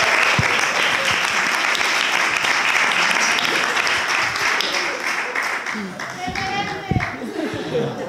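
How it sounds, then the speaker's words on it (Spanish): A festival audience bursts into loud, dense applause that fades slightly toward the end, with voices and chatter rising over the thinning claps in the final seconds. "Un aplauso para Elena, que es referente seguro de alguien."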